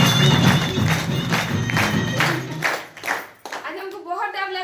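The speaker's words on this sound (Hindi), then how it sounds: "और इसके लिए एक बार जोरदार तालियां दोस्तों" Live audience clapping in a crowded hall, a dense wash of applause under a loud voice for the first three seconds, thinning to scattered claps and a few voices at the end.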